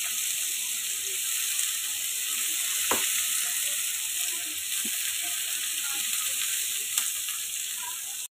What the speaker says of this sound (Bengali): আমি পেঁয়াজগুলো একটু ফ্রাই করে নিচ্ছি